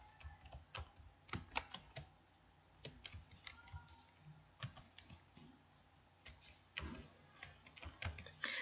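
Computer keyboard typing text into a PowerPoint slide, a steady stream of quiet, close key clicks with irregular bursts and short pauses, alone without talk.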